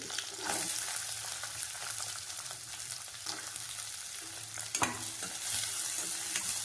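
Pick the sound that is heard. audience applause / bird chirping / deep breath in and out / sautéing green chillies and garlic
sautéing green chillies and garlic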